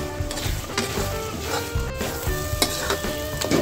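Spice paste for a dried fish (shutki) curry sizzling steadily in oil in a pan while being stirred and cooked down dark, with scraping strokes and soft clinks over a continuous fry.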